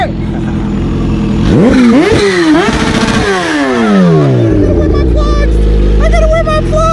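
A supercharged Kawasaki ZH2 streetfighter drag bike revs hard up close, its engine climbing and dropping in loud sweeps before settling into a rough idle, with people's excited voices mixed into the roar.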